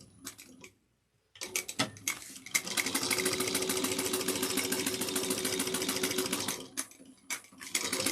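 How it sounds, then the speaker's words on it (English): A sewing machine top stitching the lining of a woven tote 1/8 inch from the edge, running in a steady, fast mechanical whir for several seconds after a few short starts, with a brief pause near the beginning. "we're going to top stitch on the lining 1/8 of an inch"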